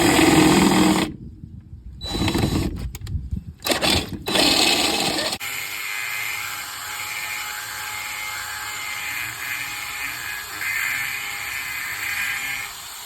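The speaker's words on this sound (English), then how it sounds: "Alright, we'll drill the hole out." A power drill bores out a hole on a Daihatsu Mira L200 car, starting with several short whining bursts and stops, then settling into a steady high motor whine close to the microphone, with no talk.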